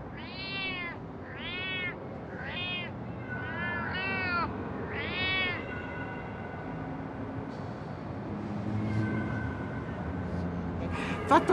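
Several cats meowing at an archaeological site in Rome, a run of clear, close meows in the first half, followed by quieter outdoor background with faint distant sounds.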